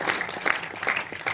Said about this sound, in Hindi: इनके लिए भी तालियां होनी चाहिए।